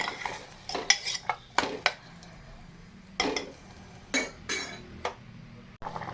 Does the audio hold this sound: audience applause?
no